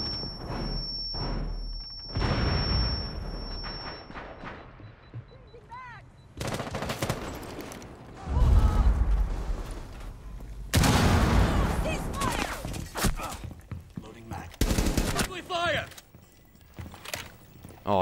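Gunfire in the Rainbow Six Siege video game, with bursts of shots and sharp bangs breaking out in several loud clusters, heard alongside a person talking excitedly.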